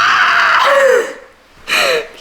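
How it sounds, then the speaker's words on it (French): A person screams at full force into a meter reading around 105 decibels, two loud raw shouts with a short pause between them, close and harsh. "Je vais gueuler toutes mes forces."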